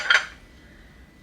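A single short, bright clink as Crate and Barrel ceramic bowls or plates knock together, ringing briefly before dying away into a quiet room.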